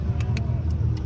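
Drift cars run at a HOTPIT Autofest drifting event, producing a steady engine rumble with faint higher bursts, heard from some distance away.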